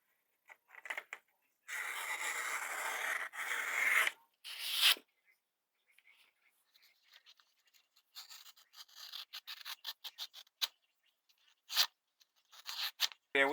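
A WW2-era Keefe combat knife from Solingen, Germany cutting through material in bursts of rasping, scratchy strokes, close up, with a long continuous cut followed by shorter scattered scrapes and quiet gaps.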